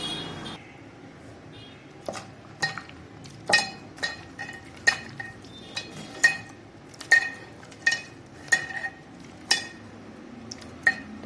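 Metal lid clanks and clinks onto a cooking pan of Malabar spinach and potato stems, a series of sharp, close metallic knocks spaced irregularly over about eleven seconds with no talking.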